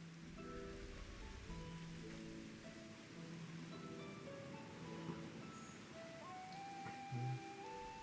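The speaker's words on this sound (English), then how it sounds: "Bit anticlimactic with all the rain." Rain falls in a Final Fantasy XIV Endwalker cinematic, a steady soft hiss running beneath a melodic musical score for the whole stretch, with no talking.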